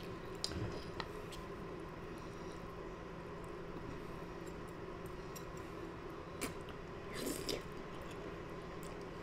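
Someone chews a mouthful of spaghetti close up, with soft wet squishes and small bites scattered over a quiet background, faint and unhurried, with no talking.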